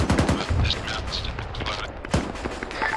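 Gunfire in a military video game, rapid bursts of shots and booms close by, mixed with radio-style voices talking over the action.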